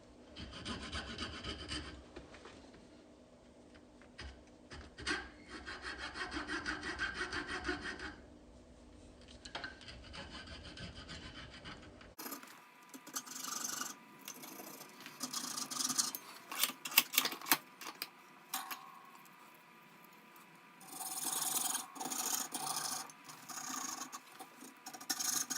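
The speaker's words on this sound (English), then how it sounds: "I'm going to basically cut to a blade depth" Rattan SCA sword being cut down to blade depth: close, rhythmic rasping strokes like a saw or file biting fibrous cane, continuing throughout with a shift in tone partway through.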